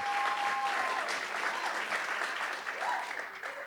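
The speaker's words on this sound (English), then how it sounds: "Another round of applause, please." Audience applause at a jazz music workshop, a dense, steady clatter of many hands filling the room for the whole stretch, tapering slightly toward the end.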